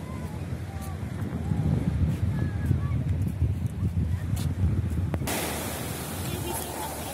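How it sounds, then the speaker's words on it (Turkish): Mediterranean Sea waves at Mersin wash and surge continuously along the shore, with wind buffeting the microphone and a steady broadband rush; no one speaks. "Size biraz denizin sesini dinleteyim."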